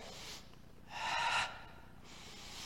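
A single soft, breathy inhale during a Pilates abdominal routine, close and quiet, rising briefly in the middle between faint exhaled breaths with no talking.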